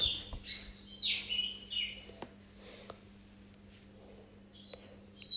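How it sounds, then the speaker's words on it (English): A pet bird sings indoors near a workbench where a circuit board is being repaired, with bright chirps and whistled phrases in bursts at the start and again at the end, fairly close and clear over a steady electrical hum. "We can see my bird are singing song."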